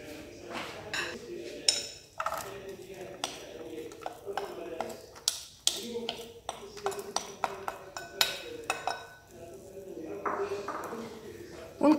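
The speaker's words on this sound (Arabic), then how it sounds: "ونقلي مليح هاد البصلة حتى تدبال، مرة على مرة نحركها" A spoon scrapes and clinks against a frying pan while onion fries in about three to four spoons of oil over medium heat, sharp metallic taps recurring irregularly as someone talks throughout.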